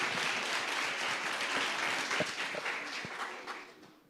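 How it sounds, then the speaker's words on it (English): Audience applauding a newly graduated PhD scholar at an academic dialogue event, a steady wash of clapping from a crowd that gradually tapers off. "Let's just give him a round of applause."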